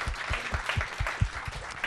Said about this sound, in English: Let's give Mauricio a big round of applause.